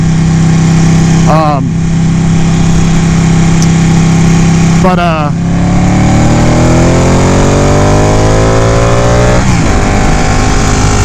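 A Ducati 899 Panigale motorcycle engine runs loud and close, a steady throbbing tone that sweeps up and down as the throttle is blipped several times.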